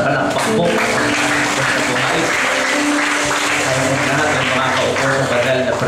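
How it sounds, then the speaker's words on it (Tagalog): A church congregation applauds loudly and steadily, dense clapping filling the space without a break under a faint murmur of voices. "Malakas sa palakpak po."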